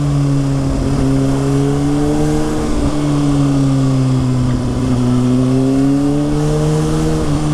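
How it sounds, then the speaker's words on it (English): A 2019 Kawasaki ZX6R motorcycle engine revs hard with a loud, steady high-pitched howl, its pitch sliding up and down through gear changes, heard alone without talk. "Pops on the downshifts."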